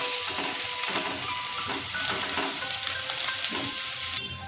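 Crushed garlic frying in hot oil in a pan, a steady close sizzle and crackle with a few soft scraping stirs, ending with a quick drop in intensity.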